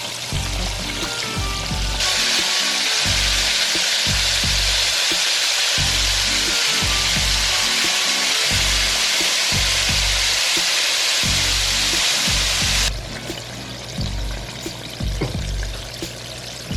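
Flounder coated in egg white fries in hot grease, giving a steady, loud broadband sizzle that swells and holds from about two seconds to thirteen seconds, then drops back, with rhythmic low thumps beneath it.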